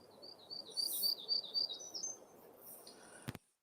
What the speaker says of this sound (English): Now we got the hermit warbler.